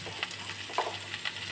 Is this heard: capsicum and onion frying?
yes